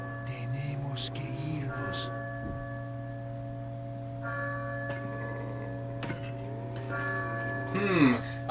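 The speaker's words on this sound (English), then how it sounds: "I wonder who that is ringing the bell." Church bell tolling in the video game Resident Evil 4, a few spaced metallic rings with sustained humming overtones over a steady low drone, with brief in-game sounds between strikes.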